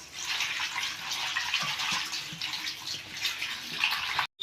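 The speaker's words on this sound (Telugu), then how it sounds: "కడిగేస్తున్నానే ఉప్పు వేసి శుభ్రంగా కడుక్కోవాలి" Spinach leaves are swished and rinsed in salted water in a kitchen, a close, continuous splashing and sloshing with small bursts of movement.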